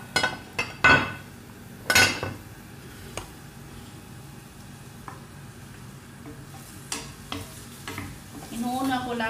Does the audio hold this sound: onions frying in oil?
yes